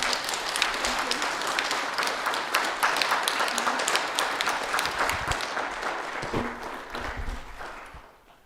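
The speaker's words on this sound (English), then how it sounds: "Please give her a big round of applause one more time." Sustained applause from an audience at a Won Buddhism service, dense and steady clapping that gradually thins out toward the end.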